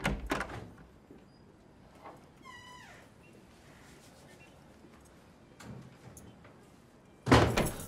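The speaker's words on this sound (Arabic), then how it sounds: "بقفل الباب بس" A door is pulled shut at night in a home, with a soft knock near the start, quiet shuffling, and a loud close thud at the end, alone without talk.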